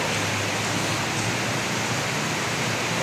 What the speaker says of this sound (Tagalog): sumilong muna po kami dito at malakas ang ulan